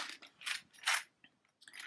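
Small plastic fabric clamps handled up close, giving a few quiet scattered clicks and snaps with short pauses between them.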